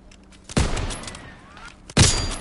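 Two sharp bursts of video game gunfire for a headshot, each a loud, close crack with a short decaying tail and a quiet gap between them.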